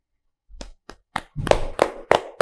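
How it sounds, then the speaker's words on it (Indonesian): A single person claps hands several times in an uneven rhythm, a few sharp nearby claps that settle into a steadier beat. "Oke, saya tepuk tangan dulu ya teman-teman."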